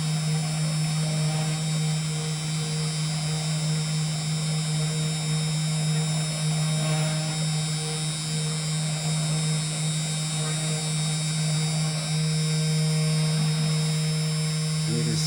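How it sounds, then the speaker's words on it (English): A small CNC machine spindle motor runs steadily and somewhat noisily throughout, a constant close-up hum and whine with a strong low drone and faint mechanical movement underneath. "That little spindle motor is a little bit noisy."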